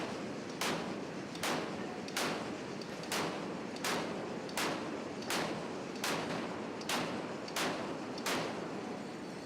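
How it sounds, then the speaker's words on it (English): Naval 4-inch cannons fire a long, evenly spaced series of heavy booms, about one blast every three-quarters of a second, over constant rushing noise with no speech. "The firing of these guns ensured accuracy and mechanical reliability were up to scratch."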